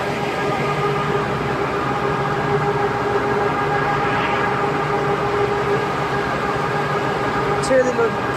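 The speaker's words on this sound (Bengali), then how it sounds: "ছেড়ে দিল ট্রেন।" A train departs near Howrah Bridge in Kolkata, heard from a ferry at Babughat as a steady, distant rumble and hum that holds evenly throughout, with a faint clank near the end.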